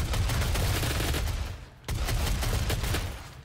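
Shotgun blasts in the DOOM multiplayer game, a loud continuous barrage of gunfire with one short break midway before the firing resumes, close and without talking.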